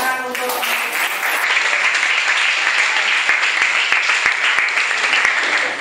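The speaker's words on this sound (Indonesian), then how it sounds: "Tepuk tangan untuk." Students in a classroom clap together in a loud, steady burst of applause that holds evenly throughout, with a few sharper individual claps standing out near the end.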